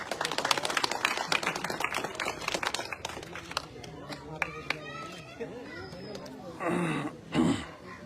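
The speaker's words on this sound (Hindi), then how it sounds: "आप सब लोग जोरदार तालियों के साथ उनका स्वागत करें।" A village crowd at a blanket-distribution event claps to welcome a guest, with sharp, uneven clapping through the first few seconds that thins out, followed by talk and crowd noise.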